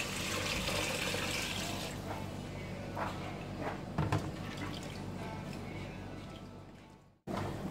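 Water is poured from a glass into a cooking pot for basmati rice, a steady broadband splashing and running stream that fills most of the clip before cutting off near the end, with no speech over it.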